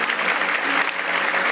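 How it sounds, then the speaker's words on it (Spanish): Church audience applauding during a Spanish-language sermon by Pastor Ariel Castro, a dense, steady wash of many hands clapping close by, with no talking over it. "te damos el mejor aplauso de esta noche"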